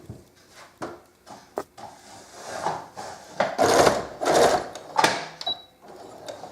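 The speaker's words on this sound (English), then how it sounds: "So I'm just going to put this on my machine and sew the seam closed." A sewing machine stitching a scarf seam closed, with backstitching. It runs in short, loud, uneven bursts with brief pauses between.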